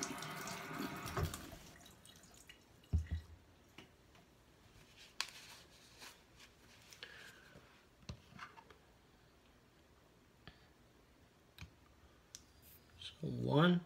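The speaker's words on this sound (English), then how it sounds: "Let's rinse this off really nicely." Water from a tap rinses a freshly honed Japanese kamisori straight razor over a sink, a steady running splash with scattered clicks and clinks of the blade in the first seconds and again near the end.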